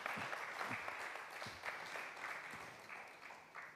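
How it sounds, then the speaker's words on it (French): Faint, steady applause from an audience at a cinema cycle event, a continuous wash of many hands clapping with no voices over it, heard from a distance. "Est-ce qu'on peut leur accompagner sous vos applaudissements, s'il vous plaît?"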